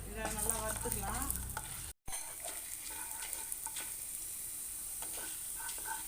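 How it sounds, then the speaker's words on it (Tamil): Chana dal frying in a spoonful of oil produces a soft, steady sizzle with light stirring scrapes. A brief tonal sound opens the passage, followed by a short silent break before the frying continues alone. "நான் இப்போ கடலைப்பருப்பு போட்டுக்கிறேன். இதை நல்லா வறுத்துக்கலாம்."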